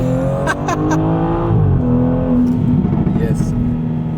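A BMW M340 engine revs hard under heavy acceleration, the tone climbing through the gears with a steady loud drone from inside the cabin, while people talk over it.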